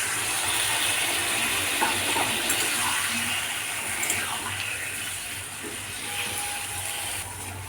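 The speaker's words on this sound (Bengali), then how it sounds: "এখানে আমি অল্প একটু জল অ্যাড করলাম" A small splash of water is poured into a pan of cooking vegetables, giving a steady close hiss and running-water wash that stays even throughout.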